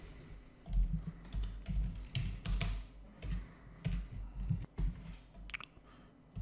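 Quiet, uneven bursts of keystrokes on a computer keyboard, close and soft, with short pauses between runs of typing.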